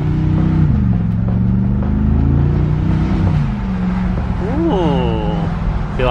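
A Mercedes G-Wagon in sport plus mode accelerates with a deep engine rumble and rising revs through downshifts, heard from inside the cabin while occupants talk over it.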